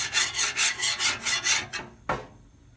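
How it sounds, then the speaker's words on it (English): Metal scraper rasping back and forth over grease on a hot Blackstone cast-iron griddle, about six rhythmic strokes, followed by a single sharp scrape or knock near the end. "I've been working this grease around, scraping"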